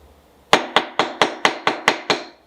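Eight sharp, evenly spaced hammer blows strike a wood chisel to mark a cut in woodworking, each crisp knock ringing briefly before the next, close and alone.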